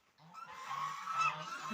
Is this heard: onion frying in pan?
no